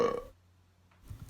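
A single short, loud burp made during a burp contest, cut off abruptly and followed by near silence before another voiced sound begins at the very end.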